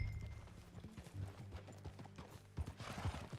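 Horse hooves clip-clop in a steady walking rhythm in the Red Dead video game, fairly quiet and close, with faint mechanical creaks between the hoof falls and a brief snort near the end.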